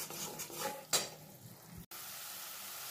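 Yogurt fried and stirred into spice masala over a low flame, a soft sizzle with a few stirring scrapes and a clink before it cuts to quieter steady frying.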